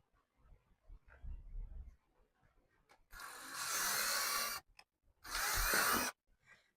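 A power drill drives screws into wood in two loud, sustained bursts of whirring and grinding, each lasting over a second, after quieter handling clatter and soft bumps at close range.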